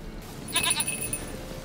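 A goat from The Witcher gives a short bleat, a brief wavering cry that stands out over faint background ambience, followed by a low fading tail.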